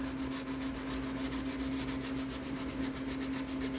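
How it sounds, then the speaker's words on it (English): Hand sanding of a Mandalorian helmet, a steady rhythmic rubbing rasp going on without pause, close and moderately quiet over a constant low hum. "if you want to sit here and watch me sand for a while"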